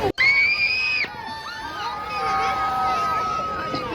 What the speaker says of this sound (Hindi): वहाँ पे सबको इतने चिल्ला रहे थे, इतनी हल्ला कर रहे थे